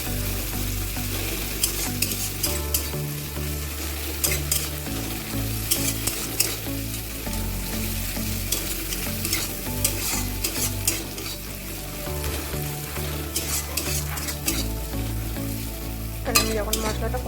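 Meat masala and turmeric sizzle and fry in a pan as a spoon stirs them steadily, a loud, continuous crackle with repeated scraping strokes throughout, no voices.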